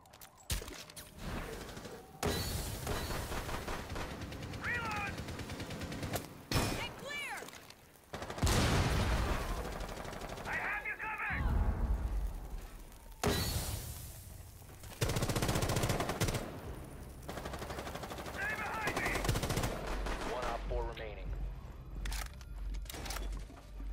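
Video game gunfire comes in bursts of rapid automatic fire separated by brief pauses, loud and close, while a player talks over some of the action.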